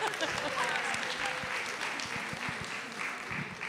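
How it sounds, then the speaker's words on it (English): Audience applause at a 2023 celebration for National Board Certified Teachers, steady clapping from a crowd that holds an even level throughout. "Let's give one last round of applause for all of our NBCTs."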